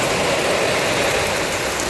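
A Bullet motorcycle engine idles in a constant low rumble, holding steady and fairly loud for the whole moment with no voices.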